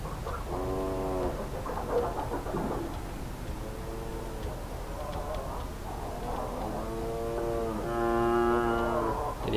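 Cows moo in Euro Truck Simulator 2 as a Volvo FH540 hauls a refrigerated trailer, several long, drawn-out lowing calls from the herd sounding one after another over a steady low engine drone.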